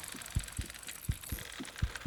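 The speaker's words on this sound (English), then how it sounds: "It's a strong heartbeat." A largemouth bass's heartbeat in the fishing game Bassmaster Fishing 2022 pulses as low, soft double thumps in an even rhythm, repeating about every half second over a faint background hiss.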